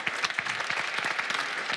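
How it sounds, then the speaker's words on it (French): An audience applauds Firas at a talk on whether diplomas are worth anything, a dense, steady patter of many hands clapping close by, with no voices over it. "Vous pouvez l'applaudir, Firas, s'il vous plaît"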